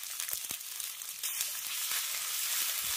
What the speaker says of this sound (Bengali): সরষে বাটাটাকে হালকা করে একটু ভেজে নিচ্ছি।